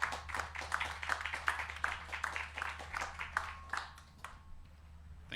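A conference audience claps steadily to welcome the Danish ambassador, a moderate, evenly paced round of applause that fades out toward the end.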